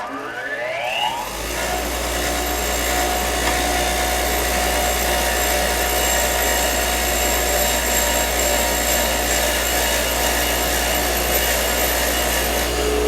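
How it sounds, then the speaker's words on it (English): Bench-mounted wire wheel spinning up to a steady, loud whirring drone while cylinder head bolt threads are cleaned on it, continuous and close with no talking. "I'll do this quite simply by just running them on my wire wheel."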